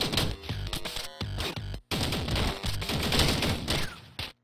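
Rapid gunfire in a video game: dense volleys of fast, overlapping shots with a few abrupt breaks, loud and close, with no speech.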